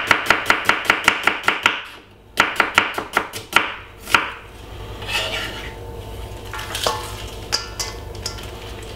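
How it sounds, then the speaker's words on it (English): A medium-sized red onion chopped with a knife on a board: quick, close, rhythmic knife strikes in two fast bursts, then scattered cutting and light clatter of utensils. "Very unique cutting of the red onion."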